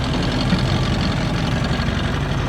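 A long-tail boat motor on a fishing trip off Thailand runs steadily at close range, a loud, continuous low engine drone with a rough knocking throb and no talk over it.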